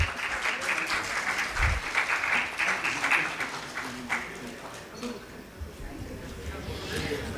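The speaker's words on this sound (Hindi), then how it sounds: "जोरदार तालियां।" A hall audience at a ceremony honouring a professor with a memento breaks into loud applause, dense clapping peaking early then fading under voices and background chatter.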